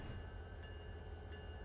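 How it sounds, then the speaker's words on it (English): Freight train in the Run 8 Train Simulator game at the Barstow hump yard, a short steady rolling rumble with faint metallic squeals, no speech. "So that's the train."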